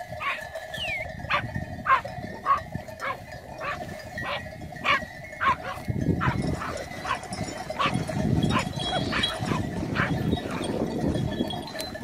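Livestock guardian dogs protecting a sheep flock bark in rapid repeated bursts over a steady bleating drone and rustling movement of the herd, with a voice talking faintly underneath.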